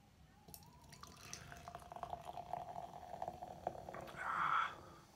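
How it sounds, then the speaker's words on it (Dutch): Rasputin stout from De Molen poured into a glass, a continuous close liquid trickle with a faint rising tone as the glass fills, ending in a louder foamy gush. "Dus, ik ga hem inschenken."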